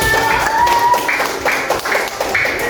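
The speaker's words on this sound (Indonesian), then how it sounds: "Boleh tepuk tangan." Rhythmic clapping from a class group, a steady run of sharp claps filling the clip with a faint tone sounding at the start.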